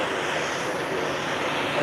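A Spirit airliner passes at an airport, a steady broadband engine roar of moderate loudness holding throughout, with people talking over it.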